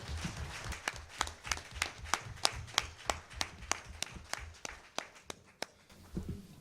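An audience claps in a room, about fifteen sharp claps in a steady, even rhythm. The clapping stays moderately loud and fades slightly near the end.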